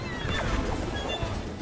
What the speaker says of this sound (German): Oh, Pferde.